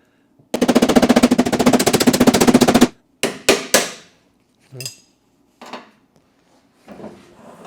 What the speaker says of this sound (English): I'm pressing up right on the center of this low spot and I'm hammering around it